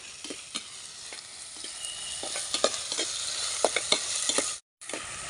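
Tomatoes frying in a pan for snail gravy, a continuous hissing sizzle punctuated by repeated spoon or ladle scrapes, with a short silent gap near the end.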